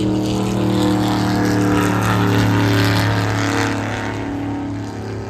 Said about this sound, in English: Look, I hear a car. I can see the other car in the tunnel.